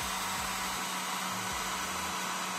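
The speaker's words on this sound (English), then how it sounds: "Now if I increase the temperature with a dryer" Hair dryer blowing steadily onto a DS18 temperature sensor in an ESP8266 relay project, a close, continuous whooshing airflow with a low motor hum throughout, no voices.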